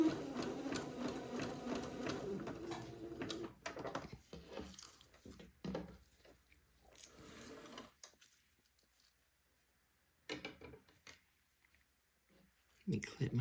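A sewing machine zigzag stitches near a lace neck-hole edge, a busy rattling hum for the first few seconds that breaks into short bursts and stops, with quiet handling noises and a brief final burst.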